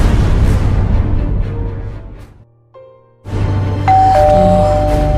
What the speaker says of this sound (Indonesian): Suatu ketika, bel pintu berbunyi, dan Wati pun bingung